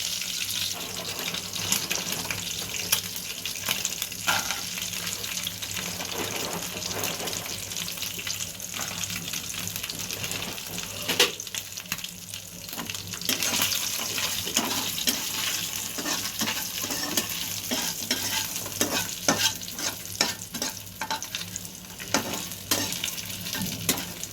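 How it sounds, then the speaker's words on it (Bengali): Bori, small lentil dumplings, fry in hot oil with a dense, steady sizzle and crackle, punctuated by scraping stirs, continuing evenly and close for a long stretch with no talk. "খানিকটা বড়ি ভেজে নেব।"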